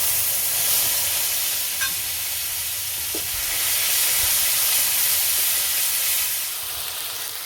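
Onion, garlic and ginger paste sizzles steadily in hot oil with panch phoron spices, a dense, continuous frying hiss that stays loud and unbroken throughout.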